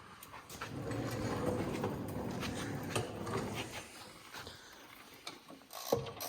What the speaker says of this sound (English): We just want to tighten the axle, which I think is 13s, right?